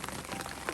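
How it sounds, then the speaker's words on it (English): Rain falling steadily on a campsite during a hike, a dense, even hiss of drops close by, heard alone for under a second. "Here we are, sitting in the rain."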